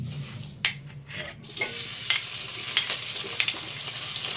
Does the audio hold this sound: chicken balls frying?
yes